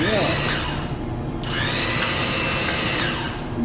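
A VEVOR electric chain hoist rated for 2200 lbs and 20 ft lift on 120V runs its motor in a loud, steady whine with a brief pause in the middle, then carries on continuously close by.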